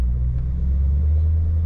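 A 1962 Chevrolet Impala two-door hardtop on the move gives a deep, steady engine and road rumble heard from inside, moderately loud and unbroken, with no voices.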